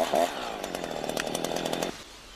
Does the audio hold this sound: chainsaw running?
yes